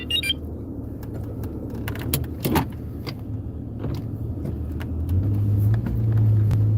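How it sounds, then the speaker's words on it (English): A car is started and settles into a steady, low running rumble, with small clicks and rattles before it and the engine note rising slightly near the end, close and fairly loud with no talk. "I gotta start the car"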